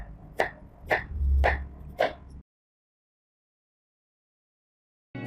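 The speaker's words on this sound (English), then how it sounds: "let's slice in carrot" A knife slicing through carrot on a cutting board, four crisp cuts about half a second apart, close and fairly loud, followed by silence.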